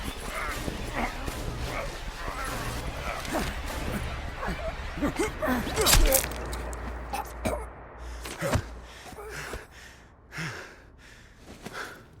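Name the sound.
dog barking in Call of Duty Black Ops Cold War video game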